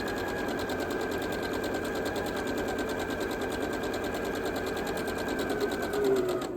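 Sewing machine stitching slowly through a quilt as it takes its first stitches, needle staying down; a steady close mechanical whir with a continuous hum throughout, no voices.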